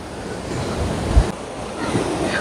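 Calm sea waves wash along the Konkan coast at Harihareshwar, a soft, steady rushing swell under gusts of wind buffeting the microphone.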